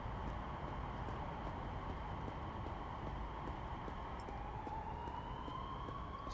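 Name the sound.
emergency vehicle sirens in video game Big Ambitions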